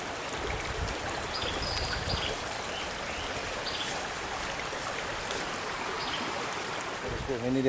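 River water flowing steadily at Kayu, a broadband rushing wash with a hint of trickling, continuous and fairly close, with no voices.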